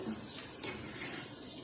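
Small rainbow-coloured sweets fry in hot oil with a soft, steady sizzle, broken by a single metallic clink of a utensil against the pan.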